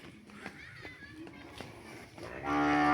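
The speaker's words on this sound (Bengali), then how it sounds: "গরুটা নিয়ে যাচ্ছে বাড়ির দিকে।" A cow moos while being led home through a village, its low calls rising over a background of children playing and chatting nearby.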